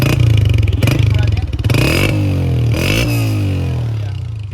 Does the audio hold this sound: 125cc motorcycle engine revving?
yes